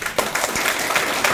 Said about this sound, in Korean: 박수 한 쳐 주십시오.